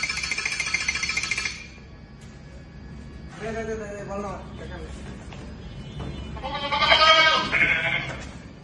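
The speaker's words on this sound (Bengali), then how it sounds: "চারশোর উপরে ছাগলের ডাক" An electronic boxing machine plays recorded goat bleats through its speaker: two wavering calls, the second louder, with an electronic tone at the start.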